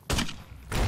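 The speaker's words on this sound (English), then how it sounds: "I'm being shot at by somebody." Gunfire in Fallout New Vegas, two sharp loud shots less than a second apart, each with a short ringing tail.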